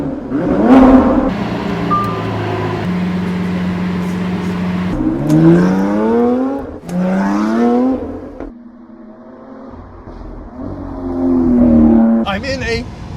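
A Lamborghini Sian FKP 37 hypercar on a test track pulls through several loud rising revs and gear changes, with brief lifts off the throttle between surges, heard close from inside the car.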